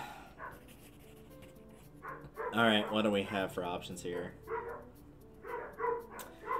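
Dogs in the video game BROK: The InvestiGator bark and yip in short bursts, moderately loud, mixed in with someone talking over them.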